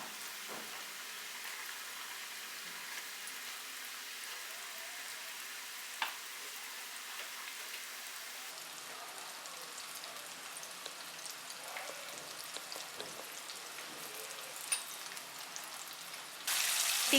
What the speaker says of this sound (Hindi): अब इन्हें एक एक करके ऑयल में डालेंगे और मीडियम आंच पे फ्राई करेंगे।